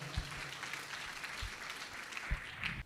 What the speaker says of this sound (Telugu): చప్పట్లు కూడా ఆహ్వానిద్దాం